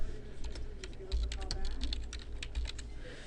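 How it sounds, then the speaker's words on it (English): Someone types on a computer keyboard, producing a quick run of soft, close keystroke clicks in an uneven rhythm over a quiet room. "The first step is to begin typing your message."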